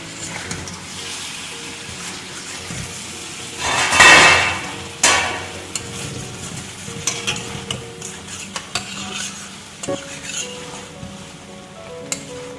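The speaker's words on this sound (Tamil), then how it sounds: "நல்லா அடி பிடிக்காமல் அழகாக கிண்டி விட்டுருங்க." Spicy okra fries in oil in a pan as a utensil stirs and scrapes, with a loud sizzling burst early on, then scattered clinks and scrapes over a quieter fry.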